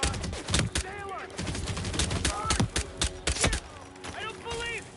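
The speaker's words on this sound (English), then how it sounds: "We got gunshots" Rapid bursts of gunfire crack out in Hitman: World of Assassination, several sharp shots in quick clusters, close and loud, with voices shouting between and over the volleys.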